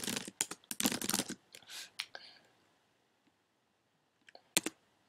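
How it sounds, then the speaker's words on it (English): Someone types on a computer keyboard in quick, close, irregular bursts of key clicks for about two seconds, then goes quiet, with a few isolated taps near the end. "I'm just going to type some things in here."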